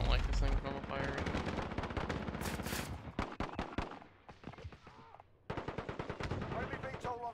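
Rapid rifle fire in Call of Duty crackles in dense bursts with brief pauses, loud and close, among other game effects.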